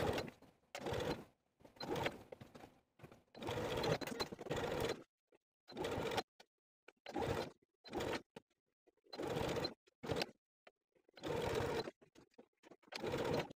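Home sewing machine understitching the facing of a jumpsuit, running in short bursts of steady mechanical whirring separated by silent pauses, close and clear with no voices.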